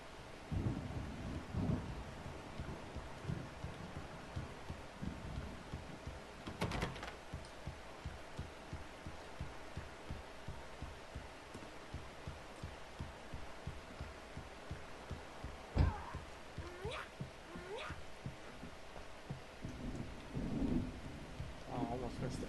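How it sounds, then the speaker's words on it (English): Thunderstorm ambience from the video game Alan Wake: steady rain hiss under repeated rolls and cracks of thunder, including a sharp close strike midway, with low rumbles throughout. "The storm is almost here."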